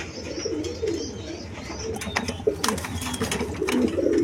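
Black German Seal pigeons, a pair among birds at a market, coo in low soft throaty bursts over a steady crowded background of chatter and bird noise, with a few sharper sounds near the middle.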